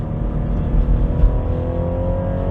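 A BMW 330e on Michelin Pilot Sport 4 tires drives at speed on a mountain road, its engine and road noise forming a steady, close drone from inside the cabin.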